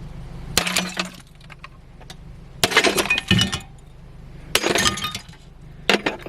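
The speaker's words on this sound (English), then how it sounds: "And let's get our trusty sledgehammer." A sledgehammer smashes a discarded sink outdoors, with four loud separate blows. Each brings a crash of breaking ceramic and clinking debris, with brief quiet between the strikes.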